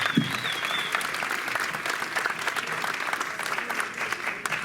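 A French live talk show audience breaks into steady applause at an evening event, dense clapping filling the room continuously with a faint crowd murmur underneath.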